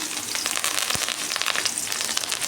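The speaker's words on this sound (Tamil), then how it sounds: "வெங்காயம், கருவேப்பிலை போட்டிருக்கேன்." Mustard seeds, onions and curry leaves fry in hot oil for a potato and brinjal poriyal, producing a dense, continuous crackling sizzle with one brief pop, close by and with no talk.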